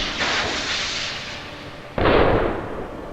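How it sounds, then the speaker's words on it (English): Distress rockets fired from the bridge of the steamship SS Atlantic during its wreck, heard as a sustained hissing rush followed by a second loud whooshing burst about two seconds later, with no talk. "the 2 quartermasters began firing the rockets from the bridge"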